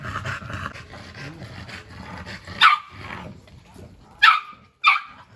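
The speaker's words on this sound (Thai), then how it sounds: "ไม่เอา อย่าเห่า ไม่เอา ไม่เห่าหยุด" A yellow-eyed dog gives three sharp, loud barks near the end, spaced about half a second to a second apart, over a steady background of low voices and room noise.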